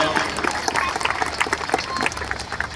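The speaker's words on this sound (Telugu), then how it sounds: "ప్రియులారు గట్టిగా చప్పట్లు కొడుతూ దేవాది దేవునికి స్తోత్రం" A church congregation claps loudly in praise, a dense, continuous patter of many hands with crowd voices mixed in underneath.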